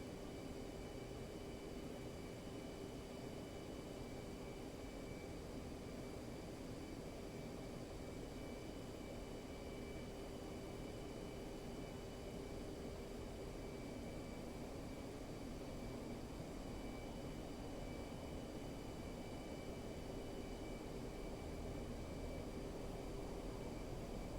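A steady, unbroken engine drone and hiss from an aircraft taxiing toward the runway in the DCS flight simulator game, holding at a constant level throughout.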